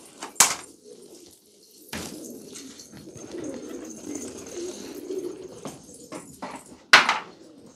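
Pigeons coo softly on a rooftop in winter, a low murmuring coo that swells and fades, punctuated by a few sharp clattering bumps and brief noises nearby.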